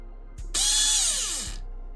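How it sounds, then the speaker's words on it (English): A G&G Perun ETU airsoft gearbox motor spins up with a sharp click, whirs loudly at high pitch for about a second, then winds down as its pitch falls. "And you gotta have that up and the motor will spin."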